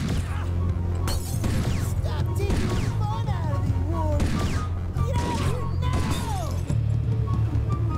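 Gunfire in The Warriors video game crackles as repeated shots and impacts over a dense, constant game soundscape, with a voice heard at times.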